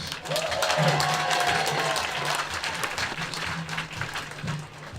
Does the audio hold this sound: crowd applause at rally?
yes